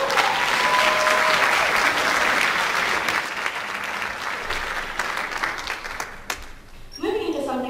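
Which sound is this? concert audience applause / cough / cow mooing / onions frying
concert audience applause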